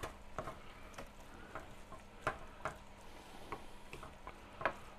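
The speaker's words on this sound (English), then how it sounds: "We'll add some ground beef in over here. Let's go ahead and give those a stir." Ground beef and vegetables frying in a pan with soft scattered ticks and scrapes of a utensil stirring, faint steady sizzle underneath, no talk.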